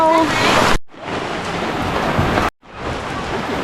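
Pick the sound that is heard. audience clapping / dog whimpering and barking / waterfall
waterfall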